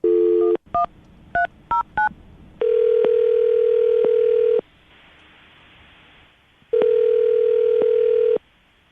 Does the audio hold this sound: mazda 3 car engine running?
no